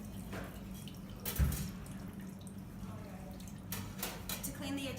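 Warm tap water runs and drips over the parts of a Hobart FSN 344 slicer/shredder attachment for a 30-quart mixer, a soft steady splash with a clunk of parts near the middle, under quiet talk.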